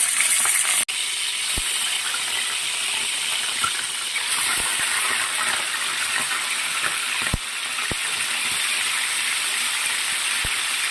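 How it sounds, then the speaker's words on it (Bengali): Chicken marinated in yogurt frying in hot oil gives a dense, steady hiss and crackle throughout, with a few sharp pops and taps scattered across it. "তেল গরম হয়ে গেছে, এবার মাংসটা ভেজে নেব"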